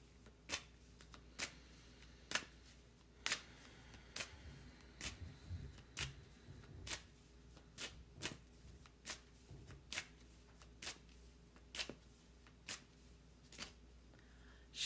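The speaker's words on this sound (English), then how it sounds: "Have I ever shuffled this long?" A deck of tarot cards is shuffled by hand, with sharp riffling snaps repeating at a steady, uneven rhythm over a soft background hush, close and quiet.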